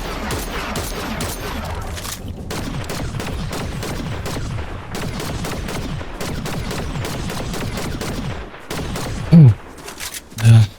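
Dense bursts of distant long-range gunfire crackle on and off throughout in the video game Fortnite, with a couple of louder thumps near the end.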